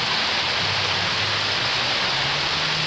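A spring storm on the Rockies Front Range pelts hail and rain down in a dense, continuous roar, steady and loud with no breaks.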